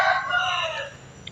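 Rooster crowing at a temple, one loud, close call that rises and trails off within about a second, heard alone.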